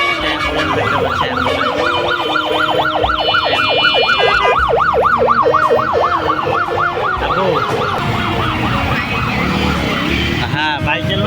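An ambulance siren on a busy Dhaka street wails loudly and continuously, its pitch sweeping up and down in repeated cycles over a steady bed of traffic noise.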